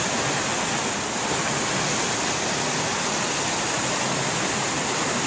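Broadband rushing of river water flowing past vegetation on a field trip, a dense steady roar with no pauses, close and loud throughout.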